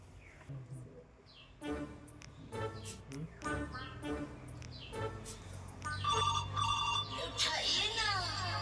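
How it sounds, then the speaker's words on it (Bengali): A phone ringtone plays in repeated bursts, a melodic electronic tune, fairly faint, with a voice and a chirpy sound near the end. "স্যার ফোন করছে।"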